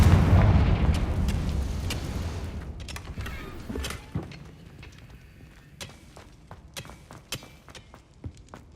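A Confringo blasting spell explodes in Hogwarts Legacy, a loud low boom that decays into rumbling debris, followed by scattered sharp clicks and cracks.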